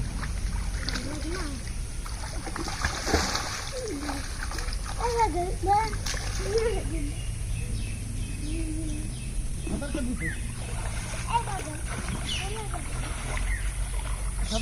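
A child splashes and paddles in water outdoors, with steady sloshing and intermittent splashes beneath near, continuous talking and a voice, birds faintly audible.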